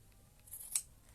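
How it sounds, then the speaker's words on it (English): Scissors snip at fabric during quilting, a faint quiet rustle followed by one short crisp cut near the middle. "That's why I keep picking up the scissors, because I keep using them for this bit"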